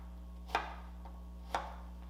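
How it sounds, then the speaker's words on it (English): A knife cuts thick slices of lemon on a board in a home kitchen, two crisp chops about a second apart over a steady low hum. "Cut some thick slices of lemon."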